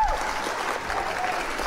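A studio audience applauds on a live French-language TV show, with steady, fairly soft clapping that fills the whole moment without pause.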